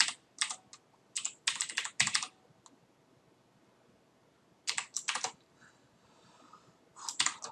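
Code is typed on a computer keyboard in several close bursts of rapid clicking keystrokes, separated by quiet pauses and one longer gap before typing resumes.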